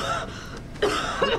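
A character in Resident Evil 6 gives two short, close coughs, the second a moment after the first, over a steady background hum of game ambience.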